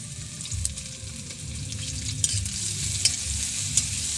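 Chopped onion and crushed garlic fry in a pan with a steady low sizzle, broken by a few sharp clicks of a spatula stirring against the metal; close up, with no talk.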